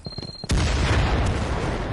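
A grenade blast in a tactical shooter video game, one sudden loud boom that cuts in after a short stretch of quieter ambience and settles into a sustained rumbling roar with no voices over it.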